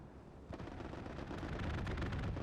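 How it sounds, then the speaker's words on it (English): An aircraft strafing run in a multiplayer combat video game, a dense rumbling roar of rapid gunfire and explosions building steadily and heard at a distance, with no talk. "Another strafing run goes down on Grushki."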